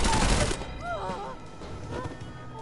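Shotgun blasts in the video game Wasteland 3 fire in a loud opening burst, followed by chiming game effects and a quieter thud or two.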